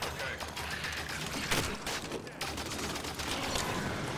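A big gun firing in Halo 5, a rapid, loud volley of heavy shots and mechanical clatter, close and continuous, with a louder blast midway through.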